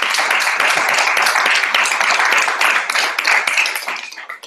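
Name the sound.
audience applause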